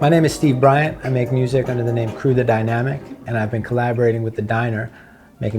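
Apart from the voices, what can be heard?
No everyday noise stands out behind the speech.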